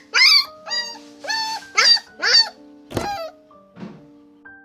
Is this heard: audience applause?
no